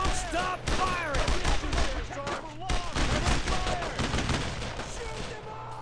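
Dense gunfire fills a World War II firefight in Brothers In Arms: Road to Hill 30, with rapid overlapping rifle and machine-gun shots rattling close by and shouting voices mixed in through the bursts.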